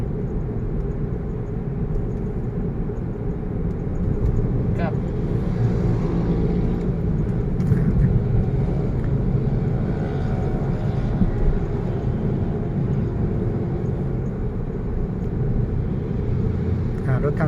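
A car accelerates along the middle lane of a Thai road during a driving lesson, with a steady, close, low engine and road rumble that fills the whole stretch.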